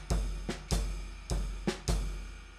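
Drum kit playing a jazz exercise with an overly loud, booming kick drum, six heavy thumps in an uneven pattern alongside lighter cymbal and snare hits, close and alone.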